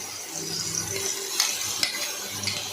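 Ground onion, chilli and garlic paste frying in oil for a prawn-head paste dish, a continuous close hiss of sizzling broken by a few sharp stirring scrapes and clinks.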